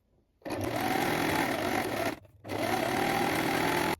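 A sewing machine runs a long straight gathering stitch at maximum stitch length and tension 3, 5 mm from the fabric edge of a beginner's elastic skirt. The machine whirs steadily, pauses briefly, then resumes close and loud with no talking.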